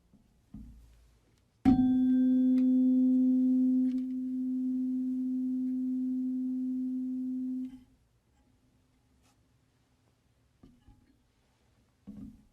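A tuning fork mounted on a wooden resonance box, set ringing by a second fork, gives a steady pure tone after a sharp onset, holds for about six seconds, then cuts off abruptly; quiet handling knocks come before and after.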